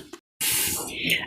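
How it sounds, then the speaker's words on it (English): Kitchen tap water runs steadily as dishes are washed, a loud continuous hissing spray that starts abruptly after a short silence and fills the rest of the clip. "it's because I'm in the kitchen and my son is doing dishes"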